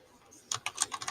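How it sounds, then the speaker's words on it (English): Quick burst of about six light computer keyboard keystrokes typing a chat message, close and crisp after a brief quiet moment. "So I start typing."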